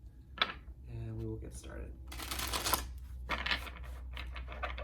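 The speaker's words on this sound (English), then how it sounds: "So let's get one more shuffle here for Pisces" Tarot cards are shuffled in short, papery riffling bursts close by, mixed with a voice speaking.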